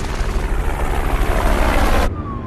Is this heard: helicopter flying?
yes